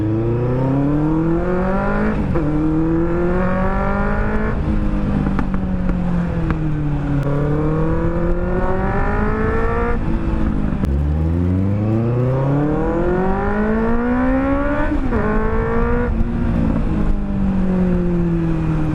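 Benelli 600 GT motorcycle engine on a street ride, revving up and down steadily through gear changes, loud and close throughout with no talking.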